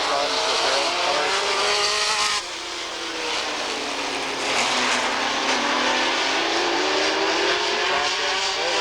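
Race cars warm up on the oval at Redwood Empire Raceway, Ukiah Speedway, in 1985, their engines giving a loud, steady, continuous roar with rising and falling pitch as they circle the track.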